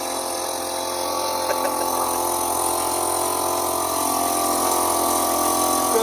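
A Chinese-made boat engine on a river boat in Oxford, England drones steadily and loudly, sputtering and chugging with a rough, uneven texture throughout, no voices.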